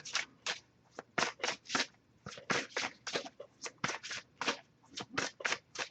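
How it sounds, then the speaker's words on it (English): Tarot cards are shuffled repeatedly, a rapid series of crisp riffling bursts in quick rhythm, close and clear with no talking. "So I'll give it a few more shuffles before I move on to their side."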